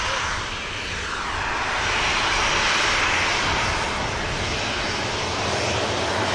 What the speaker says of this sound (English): This is the Ryanair heading to Limoges.